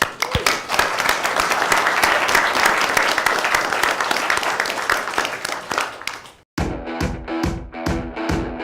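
Students, parents and teachers at an afternoon competition round clap in a sustained, loud crowd applause for about six seconds, then after a brief gap a series of rhythmic, tonal bursts follows.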